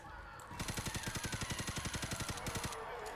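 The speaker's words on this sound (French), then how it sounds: "Je tirais pas sur la witch, j'ai tiré sur Nick." Rapid automatic gunfire in the zombie shooter game Left 4 Dead 2, a sustained burst of evenly spaced shots lasting over two seconds after a brief lead-in.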